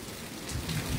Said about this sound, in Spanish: Qué bonito es ver llover y no mojarse.